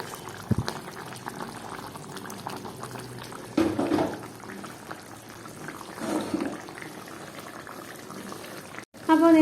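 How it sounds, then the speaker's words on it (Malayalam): A pot of mango seed curry bubbles on the stove, a soft, continuous simmer broken by a few louder splashy bursts and a clatter near the end. "അപ്പോൾ നമ്മുടെ കറി ഒന്ന് തിളച്ച് വന്നിട്ടുണ്ട്."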